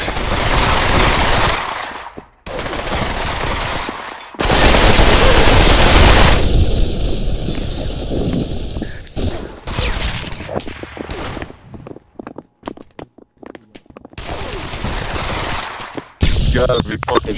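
Rapid automatic gunfire from the Pavlov VR shooter on the 007 Facility map, loud close bursts broken by short silences and a few sharp single shots, with brief speech in between.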